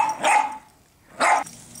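A puppy gives two short, sharp barks about a second apart, close and clear with quiet between them.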